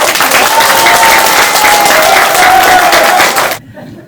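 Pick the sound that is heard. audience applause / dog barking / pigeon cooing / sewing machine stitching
audience applause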